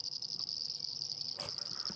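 Rain frogs and painted reed frogs chorus at a waterhole, a steady high shrill trill running unbroken throughout, with a brief rustling burst near the end.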